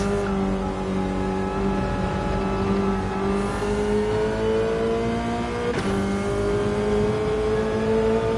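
Porsche 911 race car in Gran Turismo 7 revs hard on track, its engine note climbing steadily through the gears with a sharp shift partway, loud and continuous with no voices.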